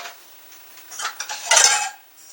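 Metal pieces of a bushcraft cook set, a pan and a pot, clink and scrape together as they are handled, with light taps building to a brighter, louder clatter near the end, close by and with no talking.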